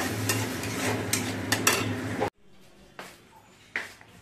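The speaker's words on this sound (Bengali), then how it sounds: "একটু গরম মশলা গোটা দিয়ে এটা কষিয়ে নেবো আগে" Tomatoes with whole garam masala sauté in a pan, sizzling loudly with stirring scrapes for a couple of seconds, then the sizzle cuts out, leaving quieter clinks and a few utensil knocks.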